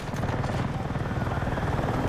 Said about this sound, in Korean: 헬기.